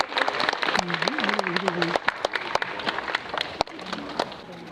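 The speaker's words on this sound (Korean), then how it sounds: "큰 박수로 맞이해주세요." Audience applause greeting a film director, lead actress and original author arriving for a talk event at a cinema, steady dense clapping with a presenter's voice speaking over it throughout.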